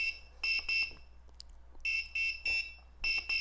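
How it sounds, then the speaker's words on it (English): A small buzzer on an Arduino Uno LED memory game sounds an error signal. It gives a series of sharp, shrill electronic beeps in uneven clusters with short silent gaps between them, close and clear, with no talking. "if you mess up, that's coming from right here, this buzzer."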